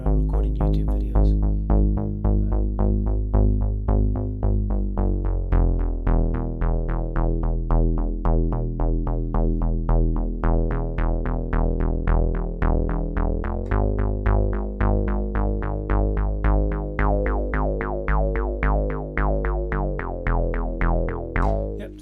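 A Dave Smith outboard synthesizer plays a mono part of rapid, tightly sequenced plucky notes in a driving steady pulse, bright attacks over a sustained low tone, loud and continuous without voices.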